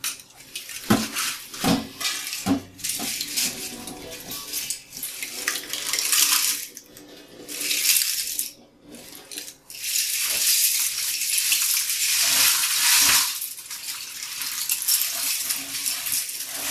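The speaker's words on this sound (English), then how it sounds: "This drains water pretty well." Water rushes and drains through a strainer holding plastic puzzle parts after dyeing in a pressure cooker, with clattering pieces and sloshing surges rising and falling over a steady stream, close to the listener.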